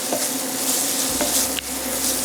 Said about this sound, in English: the onion's frying now.